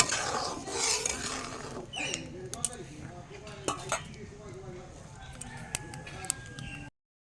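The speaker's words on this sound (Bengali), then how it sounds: "এবার ডালটা আমি নামিয়ে নেব" A pot of cooked dal lifted off an outdoor wood fire, with metallic clinks and scraping of the pot and utensils close by, a few sharper knocks over a quiet background, and no speech.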